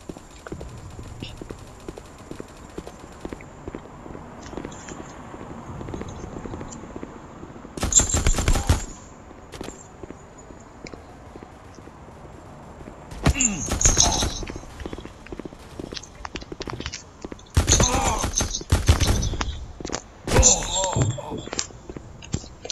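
Bursts of automatic gunfire in the mobile shooter Guns of Boom, several loud rapid volleys spaced apart over steady game background noise, with talk between them.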